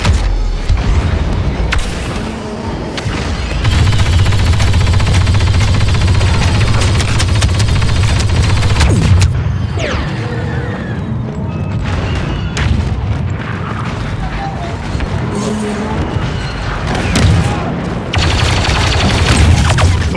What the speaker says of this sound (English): Sentry guns ready!